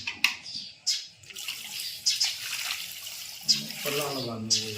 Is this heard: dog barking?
no